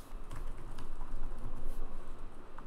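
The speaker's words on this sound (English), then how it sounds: "I want to type in a made-up username that's hopefully available." Rapid, steady clatter of keys on a computer keyboard as a username is typed in, close and continuous for a few seconds with no talking.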